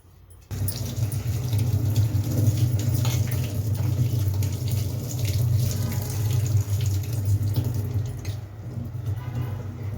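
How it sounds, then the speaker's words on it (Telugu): Amla and ginger being washed under a running kitchen tap, a strong continuous gush of water splashing in a sink that starts abruptly and runs unbroken to the end. "ఇలా రన్నింగ్ వాటర్లో కడిగి ఆ వాటర్ అంతా పోయేంత వరకు ఇలా అయితే పెట్టుకున్నాను"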